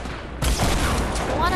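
Gunfire in the video game Fortnite breaks out as a sudden loud burst of rapid overlapping shots, continuing as a dense, close fusillade to the end, with a voice speaking over it.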